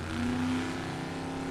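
A 1951 Chevy and other vintage drag race cars roar at a drag strip, a brief loud engine drone holding a steady pitch with a rising tone near the start.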